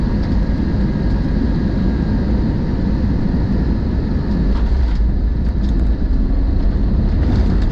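Airliner thrust reversers roaring during landing on a flight returning home from New Zealand, heard from inside the cabin as a loud, steady low rumble throughout with no talk.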